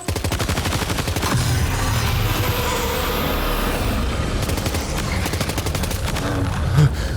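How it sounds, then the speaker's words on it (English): Rapid assault rifle gunfire in Death Stranding 2 rattles out in long, dense bursts of sharp repeated shots, loud and close, with a brief pause partway and engine-like noise underneath. "Assault rifle."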